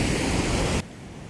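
Water from the Iranamadu reservoir rushing through a large canal, a dense steady roar that cuts off abruptly partway, leaving only faint background hiss.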